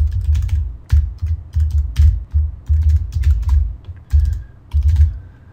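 Rapid bursts of typing on a computer keyboard, close and crisp, clattering in uneven clusters of keystrokes separated by short pauses.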